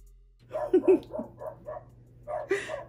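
A dog barks several times nearby in a quick, uneven series, with a low hum underneath.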